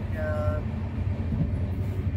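Steady low rumble of the Mumbai Mail passenger train running between Katni and Howrah, heard from inside the coach, with a brief tonal squeal early on and a continuous rolling drone throughout.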